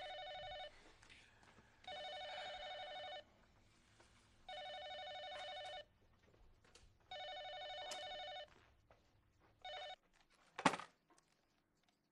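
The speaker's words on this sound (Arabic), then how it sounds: "طب بعد اذنك عشان ارد على التليفون" Telephone ringing indoors in a home, an electronic bell sounding in regular bursts of about a second with short gaps between, fairly close and clear, ending as the handset is picked up with a clatter.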